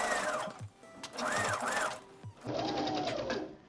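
A sewing machine stitching wrestling headbands whirs in short bursts separated by brief pauses, close and moderately loud, with quiet background sounds between runs.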